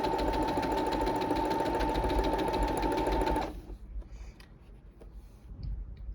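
A sewing machine stitches a seam up to a slit in a piece of clothing, running loud and fast with a steady rapid hum for about three and a half seconds, then stopping and leaving faint handling noises.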